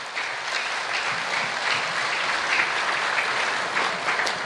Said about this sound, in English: Let us all give a rousing round of applause to all these governors.